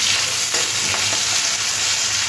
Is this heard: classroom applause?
no